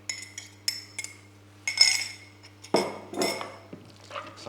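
Chicken pieces are stirred with a whisked egg in a bowl, giving a series of sharp utensil clinks and scrapes against the bowl in irregular bursts, close and fairly loud, with no talking.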